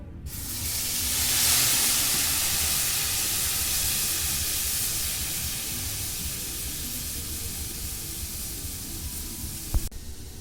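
Ground spice paste hits hot oil for a chana masala, giving a loud broadband sizzle that swells in the first two seconds and then hisses steadily without letup, with a small clink near the end.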